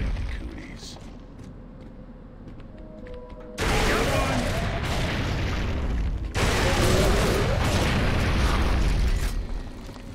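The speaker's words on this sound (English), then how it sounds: "I don't like that these things explode." Explosions in Gears of War hit as two loud, sustained booming blasts a few seconds apart, each with crackling debris and rumble, over faint background talk.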